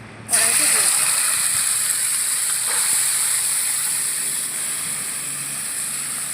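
Hand-marinated lote fish lowered into hot oil in a kadai sets off a sudden loud, continuous sizzling hiss that holds steady and fades slightly as the frying settles.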